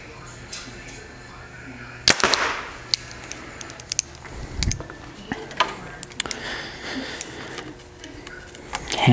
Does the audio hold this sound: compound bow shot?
yes